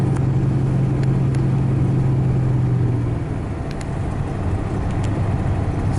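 Car with a lock-up torque converter automatic climbing a hill, the engine a steady low drone under load with road noise that eases slightly partway through.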